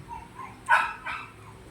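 A dog barks twice in the distance, short muffled woofs about half a second apart over quiet background noise.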